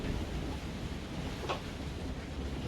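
Strong wind howling over a quarry lake in winter, a constant broadband roar buffeting the microphone with no pauses, loud and steady throughout, with rough water churning beneath it.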